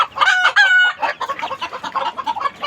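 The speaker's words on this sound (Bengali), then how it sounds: "মুরগি এই মাত্র একটা ডিম পারলো" Hens and chicks cackle and cluck loudly and excitedly right after a hen lays an egg, a dense, continuous run of close-up calls with no talking.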